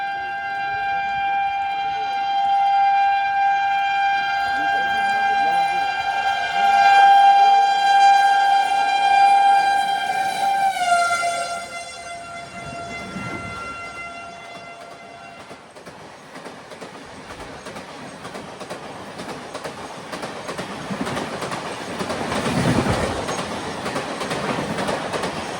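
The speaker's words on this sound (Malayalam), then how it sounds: "മധ്യപ്രദേശിലെ ഇത്താർസി ജംഗ്ഷനിലേക്ക് ഇതാ ട്രെയിൻ എത്തുകയാണ്" The Navyug Express pulls into Itarsi Junction in Madhya Pradesh, its long, loud horn sounding for about ten seconds, then fading into rumbling, rattling wheels and carriage noise.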